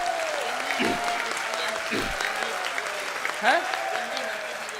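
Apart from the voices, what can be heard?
audience applause at speech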